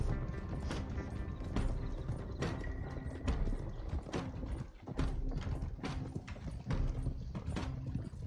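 Several horses gallop in the Red Dead Redemption 2 video game, with steady, rapid hoofbeat clip-clops and creaking tack under a rumbling background, continuous and close.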